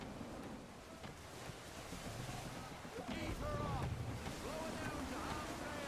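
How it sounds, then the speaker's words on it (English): Blustery wind rushes steadily across open sea in Assassin's Creed III, a broad windy roar with water washing against a sailing ship, swelling stronger midway, while brief voices sound faintly in the background. "Gusty winds can be difficult to manage."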